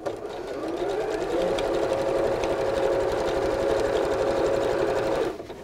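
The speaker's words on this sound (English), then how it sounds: "you're just gonna keep sewing around all the corners" A sewing machine runs steadily while stitching binding around the corners of a quilt, a continuous close whirring motor hum for about five seconds that stops abruptly at the end.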